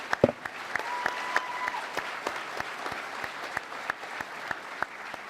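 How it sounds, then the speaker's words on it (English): Audience at a San Diego Comic-Con 2017 panel applauds in tribute to the late George Romero, a steady wash of clapping with a few sharp claps standing out near the start and then spaced through the clip. "I think maybe we should give a round of applause for the passing of George Romero"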